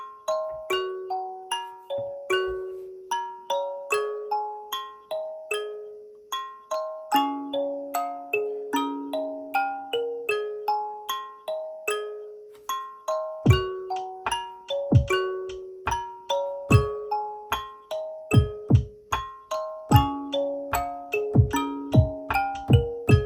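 Chopped Harmony Bloom one-shot sample played as a beat on an SP404 MKII with an Akai MPK Mini Plus: bright bell-like plucked notes in a steady, repeating rhythm, with deep bass hits coming in partway through, no voices.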